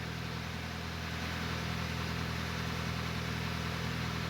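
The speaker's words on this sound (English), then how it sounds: "Oh, the idle's coming down and it feels real smooth now." A Hyundai Tucson engine, recently repaired for a misfire, idles smoothly with a steady, even low hum and no stumbles, heard continuously without talk.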